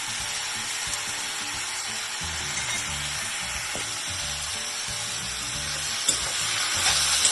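Garlic fries in a pan with a steady, close hiss and sizzle, accompanied by occasional scraping and stirring knocks of a utensil against the pan.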